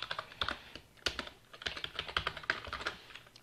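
Code typed on a computer keyboard while setting up a Jupyter Notebook cell for Python, a steady run of close, crisp key clicks with short pauses between bursts, alone with no talk.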